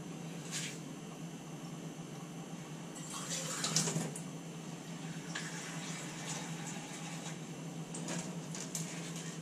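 Water pours into a pan for Spanish sardines in a home kitchen, a soft, steady splashing and gurgling that swells briefly in the middle and then settles.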